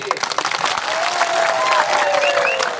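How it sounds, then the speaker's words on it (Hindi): A crowd at an outdoor political rally breaks into steady, loud applause mixed with scattered cheers, sustained for the full few seconds, while a faint amplified voice or tone drifts underneath. "रतीश बाबू को ताली दीजिए"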